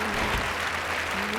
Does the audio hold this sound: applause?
yes